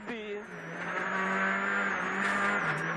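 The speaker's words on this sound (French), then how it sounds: "PJ Anderson, accident pour le pilote suédois avec sa Suzuki." Suzuki WRC rally car driven by a Swedish driver during a 2008 World Rally Championship crash, its engine drone holding steady and loud throughout with a brief tire squeal near the start, under steady commentary.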